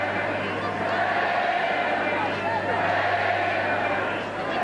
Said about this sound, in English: The Demon chant emerging from the depths of the crowd now.